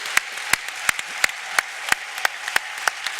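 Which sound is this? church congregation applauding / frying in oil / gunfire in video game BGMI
church congregation applauding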